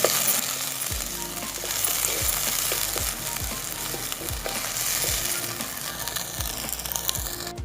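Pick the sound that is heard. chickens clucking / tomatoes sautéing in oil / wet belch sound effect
tomatoes sautéing in oil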